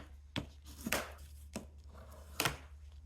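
Folded paper being creased flat to make a bookmark, heard as four sharp, crisp pressing strokes at irregular intervals, close and fairly quiet, with no talking.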